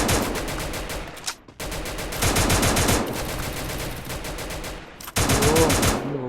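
Rapid automatic gunfire from a shooter video game, loud dense bursts running almost the whole time with two brief gaps, no talk over it.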